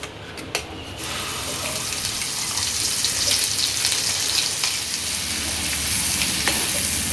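Ground masala paste sizzles loudly as it hits butter and oil in a pan for matar paneer, a steady, close frying hiss that carries on without pause and with no talking.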